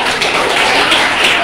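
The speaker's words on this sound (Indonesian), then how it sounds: "Berikan tepuk tangan untuk Karen." Classmates applaud a student in a classroom, a dense, even wash of clapping that stays loud and steady throughout, with no voices heard.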